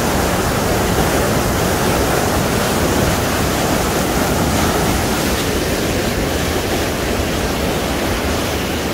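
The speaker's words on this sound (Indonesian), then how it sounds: "Ketika banjir bandang, ini saking kencangnya airnya ini" Fast, powerful flash flood water rushing through Mecca, a loud, steady broadband roar like a waterfall that fills the whole stretch without pause.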